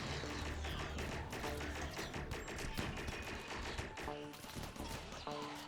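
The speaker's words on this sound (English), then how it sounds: "there's so many things shooting at Tucker" Gunfire in the colony game Rimworld: a dense, continuous fusillade of overlapping shots and rapid bursts, steady and loud throughout, with a brief dip near the end before firing resumes.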